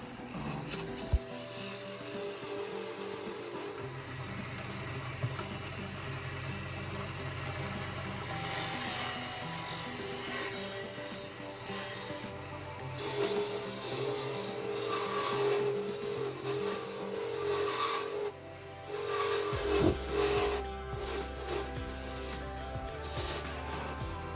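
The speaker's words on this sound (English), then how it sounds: "I generally use 2 or 3 different shaped chisels for the handle, depending on what kind of detail I want to carve." Hand chisels carve the handle of a wooden magic wand, giving a steady close scraping and rasping of blade on wood that runs throughout, with no voices.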